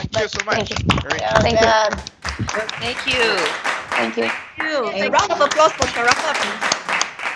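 Audience applause and clapping at an impromptu speaking competition, a dense burst of claps early on under and between a speaker's voice, with talk carrying through the rest.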